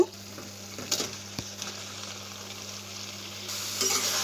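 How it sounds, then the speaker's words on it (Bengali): Steamed water lily stems and broken-up fish fry in a pan while being stirred. A soft, steady sizzle runs under a low hum, broken by a few utensil scrapes and clanks, and the frying swells louder near the end. "এবার আমি নাড়াচাড়া করে সুন্দরভাবে একটু মিশিয়ে নেব আস্তে আস্তে ভাজা ভাজা করে নেব"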